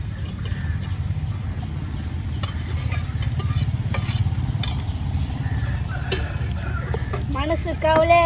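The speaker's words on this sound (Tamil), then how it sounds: "அடுப்பு ஜோரா எரியவே நல்லா கொதிக்குது குழம்பு" Fish curry bubbles in a pot over a strongly burning roadside stove while a spoon stirs and scrapes in a steady rhythm, with people talking throughout.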